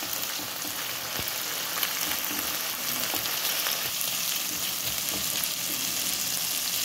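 Olives frying and being stirred in a hot pan, a steady dense sizzle with occasional scraping stir sounds, close and continuous throughout.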